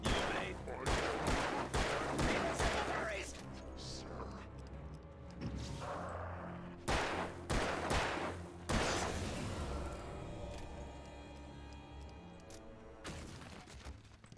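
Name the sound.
gunfire from the video game Alan Wake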